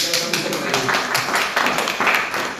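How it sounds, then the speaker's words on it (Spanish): Applause from a lecture audience honoring fellow cast members of an improv production company, a steady wash of many hands clapping close and continuous, with sharp bursts throughout. "Un aplauso también."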